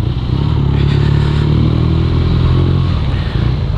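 A 2017 BMW R nineT motorcycle with a boxer engine and shaft drive rumbles steadily while being ridden, a loud, close, continuous low engine drone with wind and road clatter layered over it.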